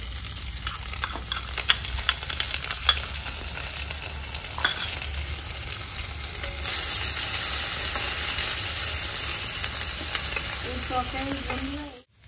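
Chopped onion and ginger-garlic paste fry in hot oil for a fish curry, giving a loud, close, continuous sizzle with stirring clatter throughout, building steadily before stopping abruptly at the end.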